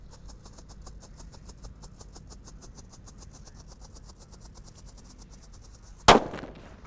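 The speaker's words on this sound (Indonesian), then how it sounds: "Lanjut ini ada mercon happy flower yang warna merah disco lap-lapdor guys. Kita nyalakan." A small engine idles with a steady pulsing hum, then a single sharp firecracker bang from a red happy flower firecracker cracks loudly near the end and quickly fades.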